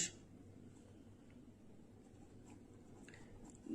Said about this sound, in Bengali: লেখাটা তাহলে এভাবে লিখবো